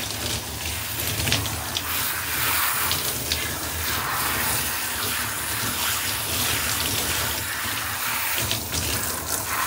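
Water runs steadily from a tap while long hair is washed, a constant close hiss of flowing and splashing water with no voices.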